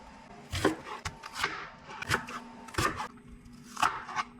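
A knife chops onion on a board, sharp close thuds about every half to three quarters of a second over a quiet background.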